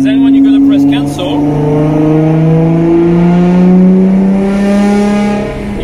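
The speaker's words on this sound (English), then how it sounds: "You have to come back slightly on the throttle while you press cancel, and then you get the flame." Nissan GTR engine tuned with EcuTek, revving up and falling back with a loud, close exhaust note whose pitch climbs and dips over several seconds, with a few crackling pops near the start.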